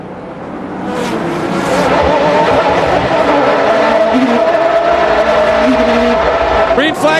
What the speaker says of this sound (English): Weaver in the Dyson Lola leads them down